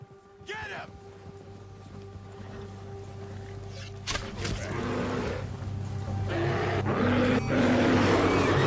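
Animal roaring in Red Dead Redemption 2 during a spring storm, with deep low roars and grunts that build steadily in loudness across the clip, set against rumbling wind and rain.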